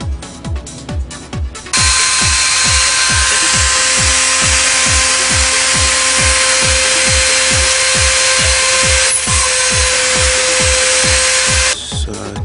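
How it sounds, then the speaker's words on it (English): Small power drill boring holes in a homemade printed circuit board, a loud continuous high motor whine with regular rhythmic ticking pulses underneath, preceded by brief start-up bursts and ending as the motor stops. "I will go take this board now through the drilling process and then the cleaning up."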